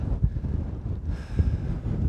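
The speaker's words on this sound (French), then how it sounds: "Le vent n'aide pas, hein, il est juste complet gauche-droite." Strong gusting wind across an open golf course, steady heavy rumble buffeting the microphone throughout with no voices.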